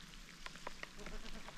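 Rain patters outdoors on a mountain fishing trip with float tubes, a faint steady hiss broken by a few close, light drip taps.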